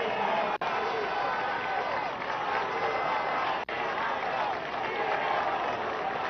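A crowd applauds at a political speech in Venezuela marking the Bolivarian Constitution's anniversary, a continuous roar of clapping that holds steady across the whole stretch.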